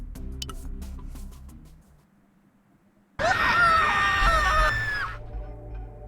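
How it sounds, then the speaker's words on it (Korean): A long, loud scream bursts out in the Tower of God game, Evankhell's floor, lasting about two seconds after a quiet pause, over a low game soundscape. "방금 비명은?"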